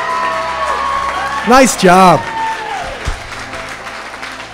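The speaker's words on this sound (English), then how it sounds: "How about one more big round of applause for Natalie" Wedding guests applauding after the maid of honor's speech, a crowd clapping steadily beneath a short cheer and a brief spoken remark in the room.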